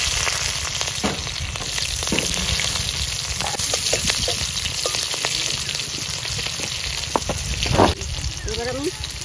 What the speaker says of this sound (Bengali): ফোড়ন দিচ্ছি কালো জিরা